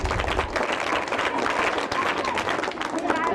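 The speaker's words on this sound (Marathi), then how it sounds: "महेशसाठी जोरदार महेशसाठी टाळ्या व्हायला पाहिजे" An audience at a talk-show event claps steadily and densely throughout in a sustained round of applause, with voices mixed into the crowd noise.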